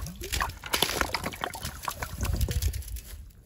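Water sloshes and trickles as it drains back down the pipe of a hand-operated water pump, a close, irregular gurgling that lasts a few seconds.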